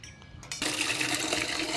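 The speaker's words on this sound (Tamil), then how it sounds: "செடி கொஞ்சம் தண்ணி ஊற்றலாம் அப்படின்னு சொல்லிட்டு தண்ணி பிடிச்சிட்ருக்கேன்" Water running from a tap into a container to water garden plants, a steady gushing fill that starts after a brief quieter moment and continues loud and close to the end.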